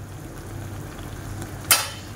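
Marinated pizza topping sizzling in a pan with a little lemon juice, a soft steady frying hiss under a low hum, with one sharp utensil clink near the end.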